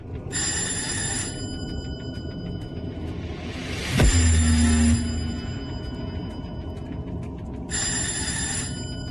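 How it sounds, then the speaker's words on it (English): A telephone bell rings in two loud bursts, one near the start and one near the end, with a brief low rumbling thud in between over a steady background hum. "I think that phone might be a little loud."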